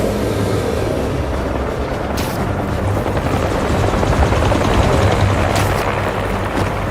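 Helicopter flying in the video game Spider-Man 2, a loud, steady rotor and engine drone with a low chopping pulse that holds throughout, alone with no talk.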